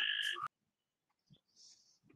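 A phone ringtone made to sound like a croaking frog goes off during a live-streaming video chat, giving a few faint, brief croaks after a short loud tonal burst.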